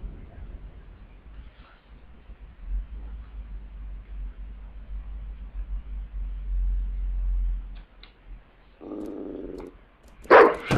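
Dog in the PS3 video game Datura barking and growling, with low rumbling ambience through most of the clip and sharper, louder outbursts near the end.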